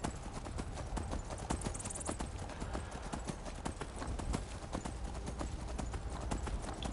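Horse hooves clip-clop steadily in the video game Skyrim, a continuous fast rhythmic clatter of footfalls over a dense, noisy game soundscape with no talk.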